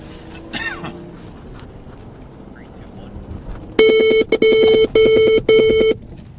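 A quiet stretch of background noise, then four loud, evenly spaced electronic collision warning beeps from a Ford car, each held for about half a second.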